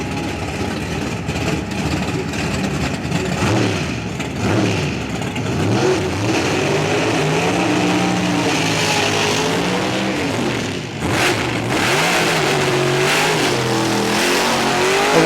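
A 2,000-horsepower Pro Stock drag racing car's engine revs on the clutch at a PDRA East Coast Nationals meet, loud and close, rising and falling in repeated sweeping pitch bursts over a continuous roar for the full length.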